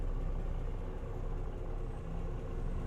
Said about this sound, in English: one thing I really love about this engine sound